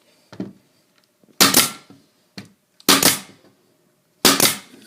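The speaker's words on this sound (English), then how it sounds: "Using a 23 gauge braid nail gun, staple the piece into place." A 23 gauge brad nail gun fires into a stair tread cover, giving three sharp, loud snaps at steady intervals plus a few lighter clicks and taps between them, with no talking.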